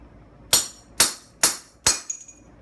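A hammer strikes a steel chisel set on a metal file four times in an even rhythm, each a sharp, ringing metallic crack up close, followed by a faint rattle.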